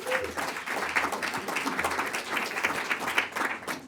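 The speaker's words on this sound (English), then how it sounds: "let's just give him a round of applause for all the work he's done" An audience at a tax policy forum breaks into applause, a continuous patter of many hands clapping at moderate level for about four seconds.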